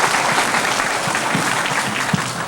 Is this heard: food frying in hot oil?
no